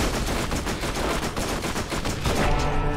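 Automatic gunfire in Borderlands 1, a loud, dense stream of rapid shots with overlapping weapons firing in quick bursts, steady and close throughout with no talk.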